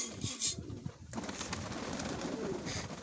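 Soft coos of Mykolaiv pigeons murmur close by, low and continuous, over a steady background hiss.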